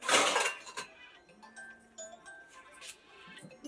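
Large metal household pots and utensils being washed on a balcony ledge clink and clatter: a loud jumble of knocks at first, then scattered lighter chinks and taps, close by and without speech.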